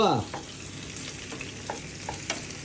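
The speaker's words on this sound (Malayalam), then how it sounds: "അതിന് ശേഷമാണ് പഴം ഇട്ടെടുക്കേണ്ടത് എണ്ണ തെറിപ്പിക്കുന്നു ഇത്" Ripe banana pieces frying in hot, splattering oil for a Kerala snack, a steady close sizzle with scattered sharp pops and crackles, no talk.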